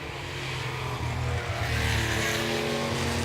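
Two E-Type Jaguar race cars, a coupe and a roadster, at the Pittsburgh Vintage Grand Prix, engines roaring loudly and building in intensity as they accelerate past.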